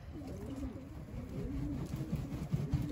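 Pigeons coo softly in a low, repeated burbling call over a faint steady background hum, close by and continuous for a few seconds.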